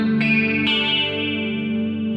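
A clean electric guitar chord rings out with a shimmering chorus effect, struck a few times and left to sustain.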